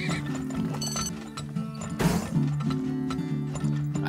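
Many horses in the oil-drilling video game Turmoil clip-clop in a busy, steady rhythm with game music, plus a brief burst of noise midway.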